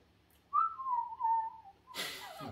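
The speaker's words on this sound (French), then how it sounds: "Elle siffle." A woman whistles one clear, steady, slightly wavering tone for about a second and a half, close by at a tabletop wargame session, followed by a burst of rustling noise.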